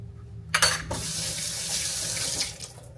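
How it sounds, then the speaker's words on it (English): Water runs from a kitchen tap while hands are washed, beginning with a sudden splashy gush, then settling into a steady close hiss of flowing water that lasts to the end, with no voices. "Wash my hands a little bit."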